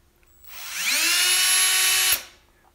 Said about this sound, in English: make sure your drill bit is actually firmly fastened to your drill